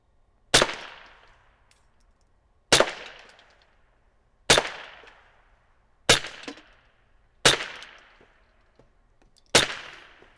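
Winchester rifle fired at cans on an outdoor range: six sharp, loud shots spaced about two seconds apart, each with a short decaying ring-out and no talking.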